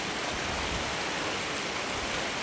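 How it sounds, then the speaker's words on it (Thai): Heavy rain pours down without pause around a house, a loud, dense, continuous hiss that fills the whole clip with no voices. "จะครึ่งชั่วโมงแล้วจ้าฝนยังไม่หยุดเลยตกหนักมาก ๆ"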